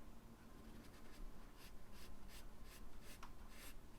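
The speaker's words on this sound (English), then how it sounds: "I'm going to grab a blue colored pencil" A blue colored pencil scratches across paper in short repeated strokes, a soft close scratching rhythm with quiet room noise between strokes.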